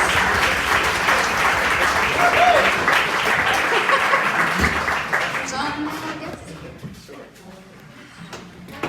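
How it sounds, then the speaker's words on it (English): A crowd at a ceilidh night breaks into a loud round of applause, sustained at first and then thinning out and fading over the last few seconds, leaving scattered claps and room noise. "Give him a big round of applause."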